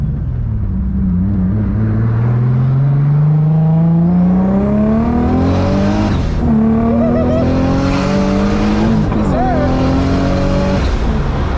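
A 700 whp boosted Infiniti G35 launches off a two-step limiter and accelerates hard, heard from inside the car. The loud engine note climbs steadily in pitch, dropping at gear shifts around the middle and again near the end.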